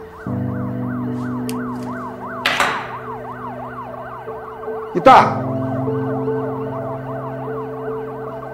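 A police siren wails outside, its rising and falling electronic tone sweeping steadily and continuously while a couple of sharp thuds and a brief voice cut in.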